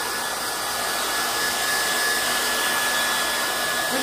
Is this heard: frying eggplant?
no